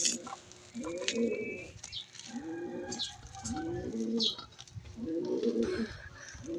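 Pigeons coo in repeated throaty rolls, about four phrases at a steady pace, close by, with faint chirps and background noise.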